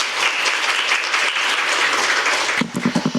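Audience at a National Assembly policy forum on nutrition and care applauds a presenter, sustained even clapping from a crowd that thins toward the end into a few louder, separate claps nearby.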